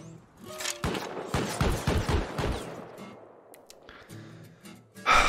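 An auto turret loaded with a Python revolver opens fire in Rust, a rapid burst of loud, close shots clustered together, followed by quieter background noise and a sharp final blast.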